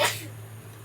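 A single sharp sneeze bursts out at the start, then fades into quiet room tone with a low steady hum beneath.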